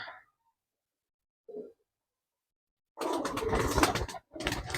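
Murshidabadi tumbler pigeons give short soft coos close by, separated by quiet gaps, followed by a louder, fuller burst of rustling and cooing near the end.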